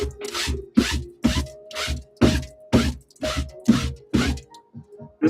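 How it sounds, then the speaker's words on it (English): Sneaker laces scrubbed by hand with soap and water, a rhythmic series of close, rasping strokes repeating about twice a second with no talk. "I just scrub laces real quick with some soap and water."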